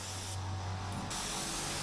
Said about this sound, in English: So this is a very good spray gun for base coat paints.